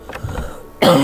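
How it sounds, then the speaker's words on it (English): A short burst of coughing, loud and close, following a quieter stretch of low background noise. "Still getting over a bad cough."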